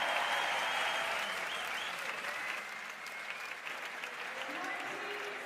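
Crowd at a CrossFit competition finish applauding and cheering, a steady wash of clapping and voices heard from a distance, with a commentator talking over it.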